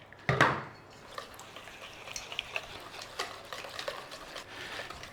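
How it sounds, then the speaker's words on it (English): Banana brownie batter with yogurt and vanilla is stirred in a bowl. A sharp knock opens it, then quiet scraping and light clinks of a utensil against the bowl, close and faint. "Right, we want to mix that."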